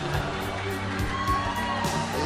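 A comedy club audience cheers and whoops in a steady, loud roar of crowd noise that fills the room throughout.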